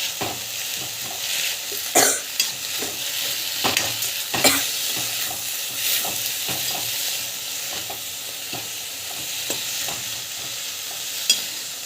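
Fresh coriander and mint leaves sauté in a pan for chutney, a busy close sizzle broken by repeated scraping and knocking of a spatula stirring, with no one speaking.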